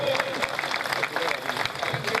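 Applause at a Jaipuri Luhar community meeting, a continuous crowd clapping heard under a loud voice speaking over it.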